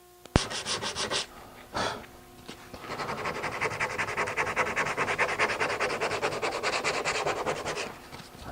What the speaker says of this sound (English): a nice bit of sanding will just take off those bits of glue.